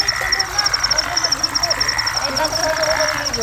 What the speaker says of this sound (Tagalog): Dinig na dinig yung mga crap. Ang mga palaka.